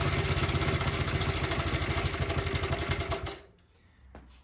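A small Honda CT70 motorcycle engine runs right after start-up with a close, rapid, steady putter for about three and a half seconds, then cuts out abruptly into near silence with one soft knock near the end.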